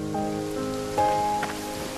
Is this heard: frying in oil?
no